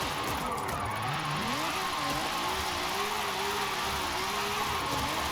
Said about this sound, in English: it's my first time ever driving this car with this tune on